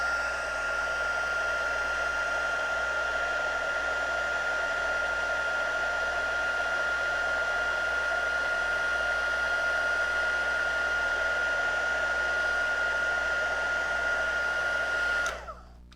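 A heat tool blows hot air for heat embossing powder on a handmade card, a steady close whooshing hum with a thin whine that runs unbroken before cutting off near the end.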